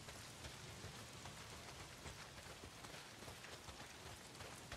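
Heavy rain pours down in the video game Days Gone, a steady dense hiss of drops hitting surfaces that holds level throughout with no voices over it.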